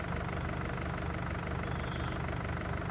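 John Deere tractor idling in a farming game, a low, steady mechanical rumble with a faint knocking pulse, constant and close with no other sounds.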